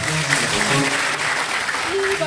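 A church congregation applauding, dense sustained clapping with a preacher's voice speaking over it.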